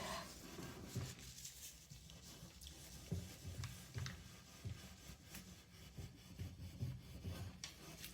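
Steady scratchy rubbing of steel wool against the wood of an old chair, repeated back-and-forth strokes close up, moderately loud with no talking.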